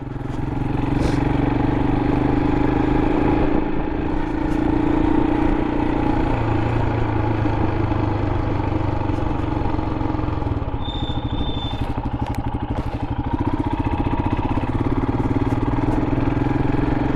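A Royal Enfield Interceptor motorcycle engine drones steadily and loudly throughout a ride, its low throbbing note mixed with wind rush and constant for the whole stretch, with no talking.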